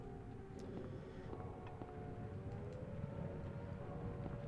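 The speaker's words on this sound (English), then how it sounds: "Why is there a tornado siren going off? Or an air raid siren?" An air raid siren wails in the Silent Hill video game, a steady low droning tone that swells slightly, sounding distant beneath a rumbling ambient background with no talk.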